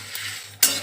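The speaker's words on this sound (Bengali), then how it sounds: "এই মশলাগুলো আমার প্রায় ভাজা হয়ে গেছে" Spices frying in a hot kadai for raw mango pickle, a soft steady sizzle with a brief stir scrape, then a louder burst of crackling near the end, close and alone without voices.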